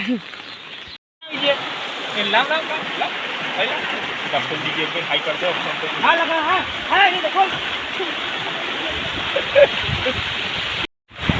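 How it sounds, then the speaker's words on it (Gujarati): Heavy monsoon rain pours steadily on a hill village in Gujarat, with rushing floodwater flowing throughout, loud and close, with a voice talking over it. "ભારે વરસાદ ભાઈ ડુંગરા ગામમાં આ હેડા ઉપર પાણી આવી ગયું છે"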